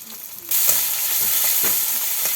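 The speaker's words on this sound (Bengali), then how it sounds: "তেলাপিয়া মাছের ভুনা করার জন্য তেল দিয়ে দিল, পেঁয়াজ কুচি আর কাঁচামরিচ কুচি" Chopped onion and green chili frying in hot oil in a pan for a tilapia curry, a loud continuous sizzle that bursts in abruptly after a brief quiet start, with faint stirring scrapes underneath.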